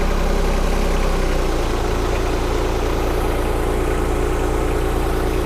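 A John Deere sub-compact tractor idles while lifting a half-ton pallet on pallet forks. The engine is loud and close, giving a steady low throbbing hum with constant vibration throughout.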